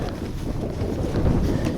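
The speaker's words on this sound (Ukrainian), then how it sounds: "Вітер в лице." Strong wind buffets the microphone in a low, continuous rumble, loud and gusty throughout, in cold weather while float fishing.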